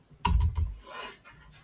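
Computer keyboard typing, a quick close burst of several clicking keystrokes followed by a few fainter taps, alone in a quiet room.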